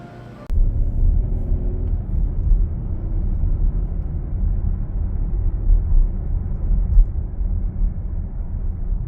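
Car interior on a long drive, a low steady road rumble and engine hum that begins abruptly and continues evenly, fairly loud with no talking.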